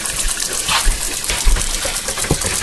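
Cold water runs hard from a kitchen sink tap to rinse a raw beef brisket, a steady loud gushing splash throughout with small shifts as the meat moves under the stream.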